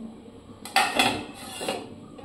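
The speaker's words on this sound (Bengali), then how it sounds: "জল দিয়ে দিয়েছি, কিছুক্ষণ ঢাকনা দিয়ে ঢেকে রান্না করে নিচ্ছি।" A lid clanks down onto a pot of simmering jackfruit curry, a couple of close metallic knocks and a brief rattle against a quiet kitchen background.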